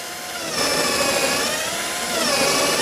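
A pneumatic pocket hole jig drills angled holes into wood, giving a loud, steady whine and grinding drone up close that swells as the bit bites in, with no talk.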